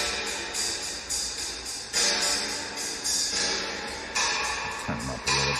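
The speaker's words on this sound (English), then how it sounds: "This is just the drums in the reverb." Drums run through a Universal Audio Capitol Chambers reverb, giving a big live-room wash; steady rhythmic hits with long reverberant tails, moderately quiet and heard alone.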